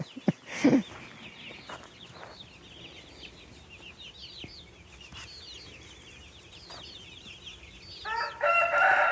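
Hens and a rooster in a chicken coop, with steady clucking and calls throughout, a crow rising near the start and louder, closer squawking at the end, no talk.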